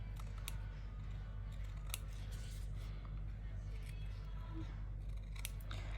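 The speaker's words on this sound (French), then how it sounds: "j'arrive mieux au ciseau" Scissors snip paper for a scrapbooking Christmas bauble craft, with sharp close clicks and cuts in irregular bursts over a low steady background hum.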